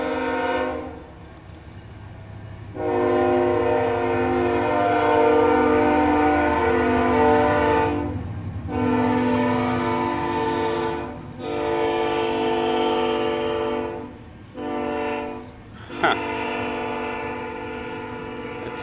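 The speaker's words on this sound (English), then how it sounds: "Train!" A train horn blares in long sustained blasts, broken by several short gaps, with the low rumble of rolling cars underneath throughout.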